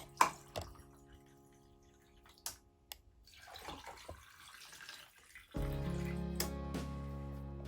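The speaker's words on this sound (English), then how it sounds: "we're just gonna top those off with some water." Water from a tap or pitcher topping off glasses of a berry and mint drink, with a few clinks and drips first, then a steady pour rushing in over the last couple of seconds.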